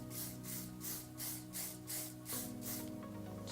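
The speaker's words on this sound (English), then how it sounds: "Just give it a couple sprays." Hairspray hisses from an aerosol can onto hair being styled into beach waves, a run of short, fairly soft bursts in a regular rhythm, close by with no talking.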